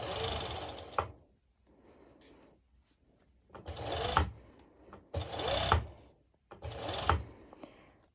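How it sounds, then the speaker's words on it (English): A serger overlock machine stitches and trims a fabric edge in three close bursts of fast rhythmic whirring, each lasting about a second or two, separated by quieter handling of fabric. "I will be serging this bit over like that"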